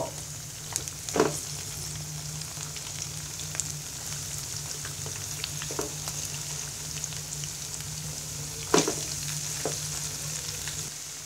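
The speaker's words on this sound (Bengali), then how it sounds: "এবার আমি ফুলকপিগুলো এপিট ওপিট ভেজে নিব।" Battered cauliflower pakora fry in hot oil, turned to cook both sides, giving a steady close sizzle with a few sharper pops and scrapes near the start and the end.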